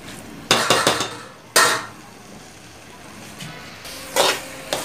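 Broad bean (avarakkai) stir-fry being stirred with salt in a metal pan, heard as short bursts of clinking and scraping at close range, separated by quieter pauses, with no voice over it.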